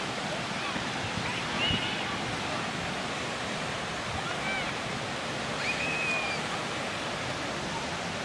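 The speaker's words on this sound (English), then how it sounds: "waves were bigger than that as well" Ocean waves break on a western beach in a steady, broad roar of surf that fills the whole stretch, with a slight swell midway and a few faint voices and high calls in the background.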